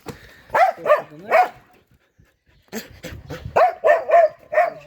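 A hunting Laika dog barks repeatedly at close range, a burst of three barks, a pause, then a rapid series of sharper barks.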